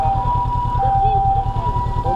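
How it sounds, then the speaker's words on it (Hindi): An ambulance siren wails steadily over a running vehicle engine's rhythmic rumble, fairly loud and close, on a road in Japan. "एम्बुलेंस जा रही है।"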